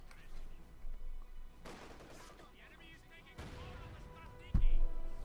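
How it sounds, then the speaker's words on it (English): Mines exploding during a Company of Heroes 2 match, a few muffled battlefield blasts with a sharp, heavy boom near the end, set against ongoing game noise and gunfire. "Mines go off."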